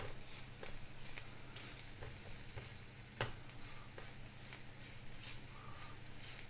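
Paneer cubes sizzle with tandoori masala on a tawa, a steady low hiss of frying broken by occasional light clicks as a spatula stirs, faint and even throughout.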